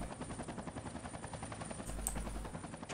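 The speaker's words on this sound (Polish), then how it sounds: "Dlaczego słyszę śmigłowiec?" Steady rhythmic thudding of video game helicopter rotor blades in the game Chaser, continuous and fairly close, with a faint high whine over it.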